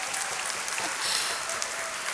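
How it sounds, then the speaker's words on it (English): Brief applause from a congregation during a sermon, a short, even patter of many hands clapping at moderate loudness without a break. "I didn't expect applause for that"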